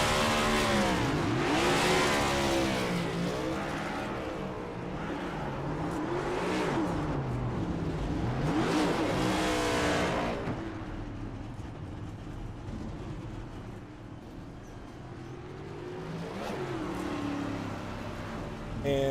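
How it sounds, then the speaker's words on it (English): Race car revving during a burnout on the front stretch at Miami in a racing video game, with repeated engine swells rising and falling, loud at first and then settling to a steadier drone. "The Mason Houseman waiting his turn for some burnouts here at Miami."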